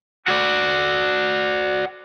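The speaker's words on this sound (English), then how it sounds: "a few different shapes with some tremolo picking and the wah just going forwards and backwards and a crap load of reverb" An electric guitar plays tremolo picking through a wah pedal and heavy reverb on a riff, one loud sustained chord that starts abruptly and rings for about a second and a half.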